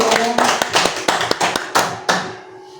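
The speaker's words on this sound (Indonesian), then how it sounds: "Tepuk tangan Bapak Ibu untuk sekolah dasar negeri Nangka." Teachers clap their hands in short irregular bursts of sharp, close claps that thin out and stop near the end, with some room echo.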